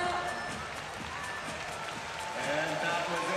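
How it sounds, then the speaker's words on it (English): Crowd applause for climber Luca Boldrini at a men's bouldering semi-final, steady clapping and cheering from an arena audience, swelling slightly toward the end. "A big round of applause"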